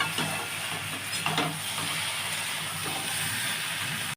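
Mixed vegetables with red chilli powder sizzle in a pan, a constant hiss broken by a few light scrapes and clatters as they are stirred.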